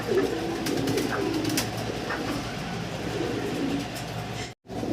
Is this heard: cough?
no